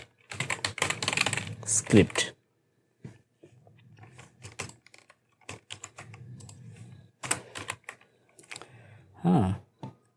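Keyboard typing of code for an HTML and JavaScript lesson, quick clustered key clicks in bursts with pauses, close and moderately loud, with someone talking in between.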